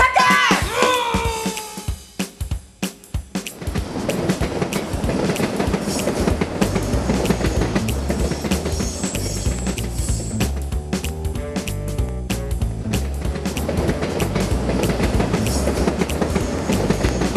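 A train rolls along the rails in a children's theatre production, with a steady rumbling clatter that stays loud and continuous after a few sharp knocks at the start; some voices and background sounds mix in.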